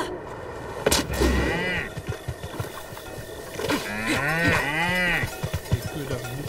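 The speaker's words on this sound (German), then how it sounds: "Die Kühe darf ich nicht töten" Cattle in The Legend of Zelda: Breath of the Wild moo close and loud, one short call and then a longer wavering moo, over a light game ambience with scattered soft clicks.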